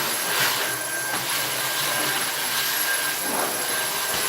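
A vacuum cleaner runs steadily with a loud, continuous whine during a home renovation where vinyl plank flooring is going in, the drone holding level with no talking over it.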